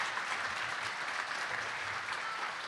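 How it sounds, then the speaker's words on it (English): Sustained applause from a crowd at a Texas AFL-CIO union convention, steady clapping filling the room throughout without a break. "Give yourselves a round of applause for standing up and standing with AFGE."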